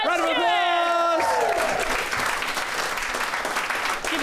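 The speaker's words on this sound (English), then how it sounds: "Round of applause!" After a brief descending electronic tone, a comedy podcast audience breaks into sustained clapping that fills the rest of the moment.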